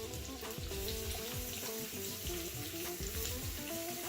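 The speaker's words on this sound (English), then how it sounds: "I'm going to add now the rest of the onions" Onions sizzle steadily in a hot pan of oil for an Indian peas pulao, a dense, continuous frying hiss with soft clinks and scrapes of stirring throughout.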